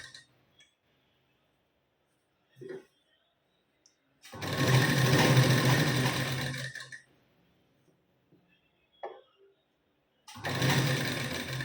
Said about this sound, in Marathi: अर्धा इंचाची शिलाई मार्जिन घेऊन आपल्याला शिलाई देऊन घ्यायची.